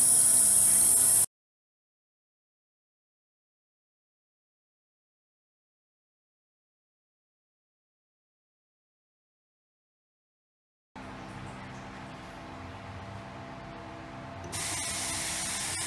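An auto-close pillar tap with rain spray sprays water in a steady hiss, cuts off into silence for several seconds, then gushes again in a continuous shower that grows slightly louder.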